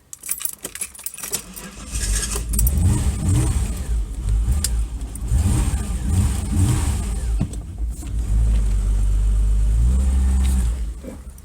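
A Ford Granada 3.0 GL automatic idles after sitting unused for two months, its engine a steady low rumble close by, with a brief metallic key jingle at the start before the running sound settles in.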